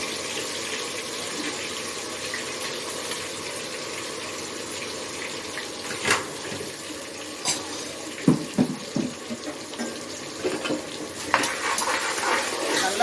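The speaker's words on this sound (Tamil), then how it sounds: "நல்லா ப்ரௌனாக வதக்கிக்கோங்க, அப்போ தான் டேஸ்ட்டாக இருக்கும் பிரியாணி." Onions frying with ginger-garlic paste for biryani, stirred in the pan: a steady soft sizzle runs throughout, and a few scraping stirs and clinks come near the end, close and alone.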